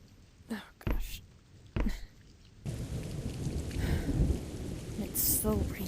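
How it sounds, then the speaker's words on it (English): Steady rain hisses throughout, with two sharp booming thunder cracks early on before the downpour thickens into a dense, continuous wash. "It's still raining. Of course. Seems like the rain never goes away."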